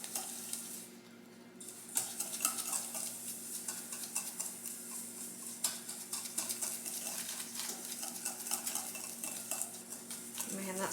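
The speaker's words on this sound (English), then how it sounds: "And we're gonna whisk it all together." Whisk stirring a seasoning mix of pepper and sugar in a bowl, a steady scraping, clinking rhythm that runs continuously at close range with a faint background hum.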